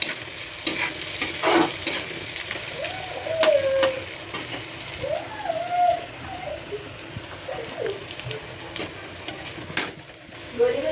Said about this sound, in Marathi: आता चांगलं लाल होईपर्यंत परतायचं गॅस मंदाशी ठेवायचे